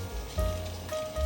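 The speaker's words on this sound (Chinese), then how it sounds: "先让它煎一下" Marinated bean curd sheets fry in a pan of oil, giving a soft, continuous crackling sizzle like light rain, steady and close, with no voices.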